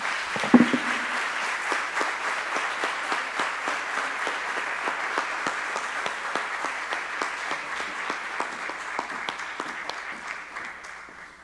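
An audience applauds to congratulate a retiree at a school district tenure and retirement celebration, a dense, steady stretch of clapping that carries on for several seconds and fades slightly at the end.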